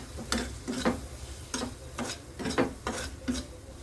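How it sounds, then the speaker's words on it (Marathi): Spices sautéing in hot oil while being stirred, with a soft sizzle underneath and repeated scraping strokes of a spoon in the pan, about eight strokes in a loose, steady rhythm, close and fairly quiet. "आता हे सगळे जिन्नस व्यवस्थित तेलावर परतून घ्यायचे."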